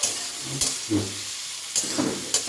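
Food is stirred in a hot frying pan, a constant sizzle broken by several scraping strokes of the utensil at an uneven rhythm, close and fairly loud.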